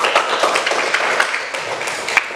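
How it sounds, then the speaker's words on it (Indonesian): A classroom of students claps for a classmate named Pati after she finishes reading aloud, a brief scattered patter of hands that is fairly close and steady, with no talking over it. "tepuk tangan Pati."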